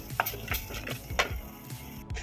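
Palak paste is stirred and fried in a pan for palak paneer gravy, with a spoon scraping and clinking in quick repeated strokes over a soft, steady sizzle, close and without talk.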